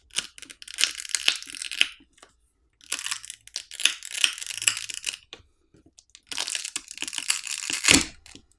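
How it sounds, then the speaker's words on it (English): The battery of a Xiaomi 12 phone is pried off its adhesive using pull tabs, producing close crinkling, tearing and crunching bursts in three separate stretches with quiet gaps between them. "there's pull tabs provided to help us pry the battery off"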